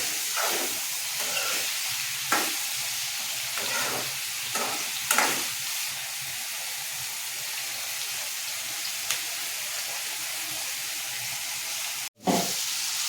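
Eggs fry in a pan for egg biryani, a steady close sizzle and hiss broken by several brief scraping stirs and a sharp clatter near the end.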